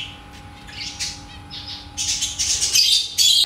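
Caged birds, apparently chickens, squawk and chirp close by while being fed corn on the cob, with scattered calls growing into louder, busier bursts toward the end.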